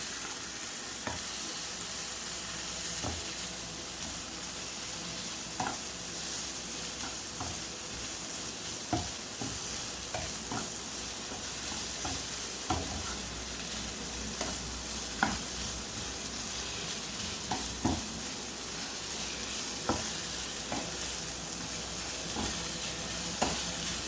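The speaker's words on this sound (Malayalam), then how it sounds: "നല്ലതുപോലെ ഒന്ന് ഇളക്കി കൊടുക്കുക." Mint chutney mixture with a quarter cup of grated coconut stirred in a hot pan, a soft continuous sizzle with regular scraping spatula strokes every second or two, close and fairly quiet.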